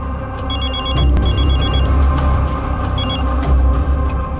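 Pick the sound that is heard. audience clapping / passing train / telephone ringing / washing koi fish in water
telephone ringing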